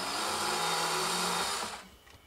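A power drill with a small bit runs steadily into a car trunk lid, a loud continuous whirring close by that stops abruptly near the end.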